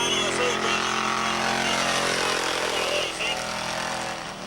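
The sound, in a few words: V8 speedway race car engine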